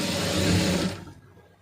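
A sewing machine stitches along the edge of a cloth piece with a brief, close, steady whirring run that stops abruptly partway through, leaving quiet, with no talking.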